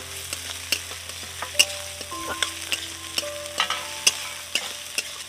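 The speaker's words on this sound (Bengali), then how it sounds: "কাঁচা লঙ্কা চেরা দিয়ে দিলাম আর পেঁয়াজ কুচি আর টমেটো কুচি একসঙ্গে দিয়ে দিলাম" Slit green chillies with chopped onion and tomato sizzle steadily in a hot pan, with scattered sharp crackles and pops over a constant frying hiss, no voices.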